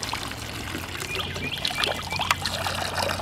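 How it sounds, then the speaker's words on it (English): Water pours from pipes rising out of the ground into a bottle at a rural roadside spot in South Carolina, a steady trickling splash with brighter gurgles, close and moderately loud, with no talking. "they just have some pipes coming out of the ground. You just come in and get you some water."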